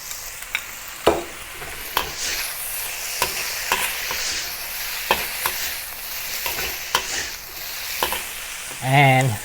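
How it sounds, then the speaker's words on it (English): Mushroom fried rice with peas and egg sizzles in a wok, steady frying hiss under repeated scraping strokes of a spatula, close by, with a brief spoken word at the end. "add back all other ingredients back to the wok and mix with the rice"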